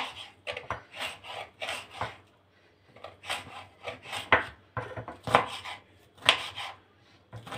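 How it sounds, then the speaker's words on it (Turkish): A knife chops peppers finely on a board for a vegetable-heavy bulgur pilaf, in quick bursts of close, crisp taps with brief pauses between runs, and no one speaks. "Şöyle biberlerimizi ince ince doğramaya gayret edelim."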